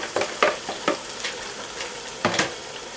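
Boiled, lightly mashed moong dal being stirred into hot oil in a pan, with a soft bubbling sizzle and several scraping stir strokes at an uneven rhythm, close and fairly quiet.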